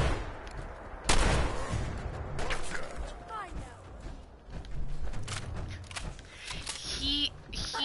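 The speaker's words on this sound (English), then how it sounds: "Tactical combat shotgun" Tactical combat shotgun blasts in a post-apocalyptic shooter game played in power armor, several sharp loud reports amid chaotic gunfire and crashes, with a voice talking over parts of it.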